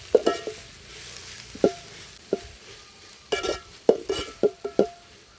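Ginger-garlic paste fried and stirred in a pan for a beef dish, with a faint sizzle under scattered close clinks and scrapes of a spoon against the metal, clustering more densely toward the end.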